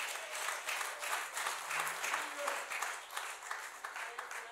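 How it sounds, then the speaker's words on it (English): Church congregation clapping hands during a Sunday morning worship service, a steady rhythmic patter of many hands filling the room with faint voices underneath. "Come on and clap your hands and praise God."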